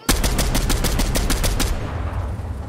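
Rapid automatic gunfire in the video game Fortnite: a loud, close burst of about a dozen evenly spaced shots that stops abruptly, leaving a lingering rumble.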